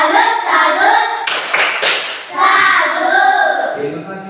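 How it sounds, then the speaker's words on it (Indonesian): A classroom of students performs a rhythmic salute clap for their teacher, a few sharp group claps in a short burst amid children's chanting voices, with talking before and after. "Tepuk salut buat teacher."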